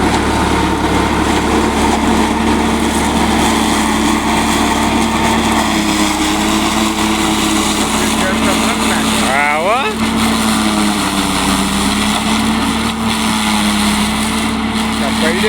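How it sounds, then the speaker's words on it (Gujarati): A tractor engine runs steadily and loudly up close while cutting a standing cotton field at night, with a brief pitch wobble midway and a voice speaking over it. "આપણે જ રાતે વણ કાપવા આવી ગયું ટ્રેક્ટર"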